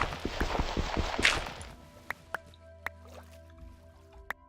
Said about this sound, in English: So this water here, you can see it's now current as it's flowing down